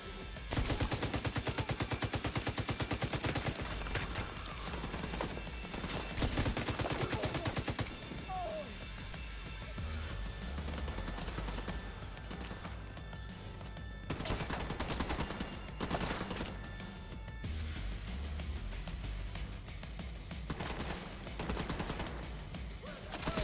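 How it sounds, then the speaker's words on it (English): Automated turret blazing away in The Division 2, a dense, steady stream of rapid gunfire running nearly the whole stretch with bursts of louder shots layered over heavy game combat noise. "I love that little turret."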